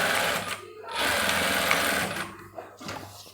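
Domestic sewing machine stitching the seam of an elastic-waist palazzo pant, a steady close whirring run that pauses briefly twice before starting again, with no talking.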